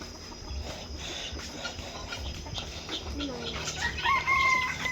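A bantam rooster crows at a zoo, its rising call coming near the end over a busy background of other fowl clucking and a few people talking nearby.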